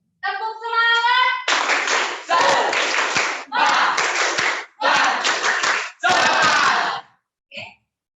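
Classroom group does a rhythmic spirit clap (tepuk semangat): a sung lead-in, then five loud, evenly spaced bursts of clapping mixed with shouted chanting, ending with a short voice.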